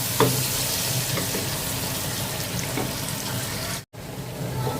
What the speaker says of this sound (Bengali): টমেটোটা হচ্ছে একটু পেঁয়াজের সাথে ভাজবো